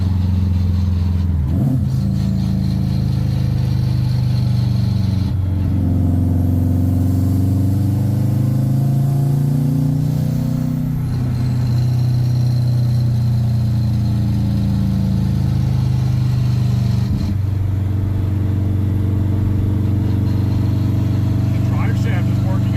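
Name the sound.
drift car engine and transmission noise while driving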